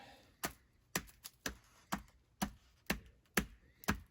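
A pocket knife cuts into a wooden stick while someone tries to start a fire with sticks, giving about nine sharp, evenly spaced cracking strokes, close and clear, with no talking.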